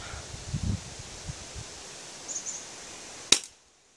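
A full metal Colt 25 airsoft pistol fires a single sharp, loud BB shot near the end, after a stretch of soft rustling and handling noise; the sound ends abruptly in near silence.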